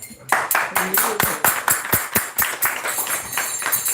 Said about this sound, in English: Let's give a big round of applause for Prabhu.